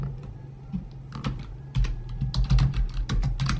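Typing an SQL command on a computer keyboard, a steady run of close, crisp key clicks that grows busier and louder partway through, with no talking.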